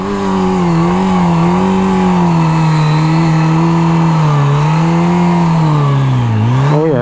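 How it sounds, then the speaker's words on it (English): A motorbike doing burnouts on a smooth city street, its engine held at a loud sustained rev with wavering pitch, dipping then surging sharply near the end, close and continuous with no talk. "See if we can do some burnouts here on the smooth street."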